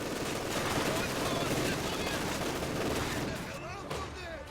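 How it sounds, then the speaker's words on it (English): Dense video game gunfire pouring into a house, rapid overlapping machine-gun bursts and rifle shots forming a continuous loud barrage that thins out near the end, with commentators talking over it. "So they're just unloading the entire clips onto that house"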